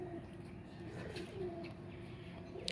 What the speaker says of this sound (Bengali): ভিউয়ার্স আমার পায়রাগুলো ওই যে দেখুন